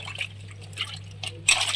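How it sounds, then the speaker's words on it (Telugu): Lady finger okra being washed by hand in water, short soft splashes and drips close by, ending in a brighter burst of sloshing. "బెండకాయలను ముందుగా తీసుకొని ఇలా కడుక్కోవాలి వాటర్లో."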